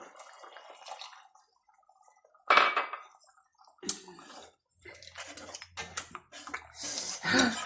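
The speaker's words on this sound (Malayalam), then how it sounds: "ഇച്ചിരി ശർക്കര വെള്ളം ഒഴിക്കാം" Jaggery water splashes and pours into a pot of ginger curry, followed by clinks of metal utensils and kitchen clatter.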